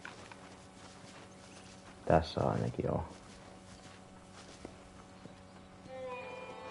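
A horse's hooves clop in a short cluster of heavy, close steps in Red Dead Redemption, rising briefly over the steady game ambience, with a man chatting quietly in Finnish before and after.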